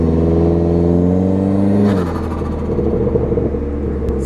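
A Dodge SRT4 engine with no muffler roars loudly up close, holding a steady high rev before dropping to a rough, rumbling idle with raw exhaust clatter.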